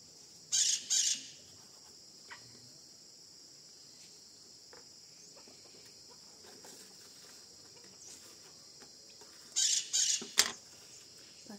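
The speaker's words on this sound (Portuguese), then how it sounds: "Passarinho gritando ali, ó," Maritaca parakeets squawk outdoors on a farm on a hot, sunny day, with two loud bursts of harsh, rapid calls near the start and the end. Between them, a steady insect drone continues.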